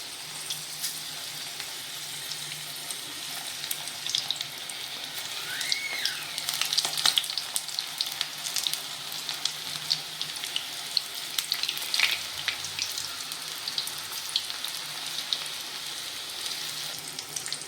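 Small corn pakoda fritters fry in hot oil over medium heat, giving a continuous bright, even sizzle with a few faint bubbling swells. The sound carries through on its own with no speech.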